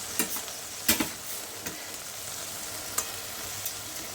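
Rui fish heads slid into hot oil-rich spiced masala, giving a soft continuous sizzle punctuated by a few sharp spatters and stirring taps, no voices.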